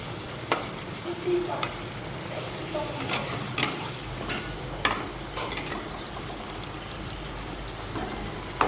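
Chana jilipi, sweets made without chhana, frying in oil until browned on both sides, a steady low sizzle with scattered pops and occasional clatter of a utensil stirring in the pan.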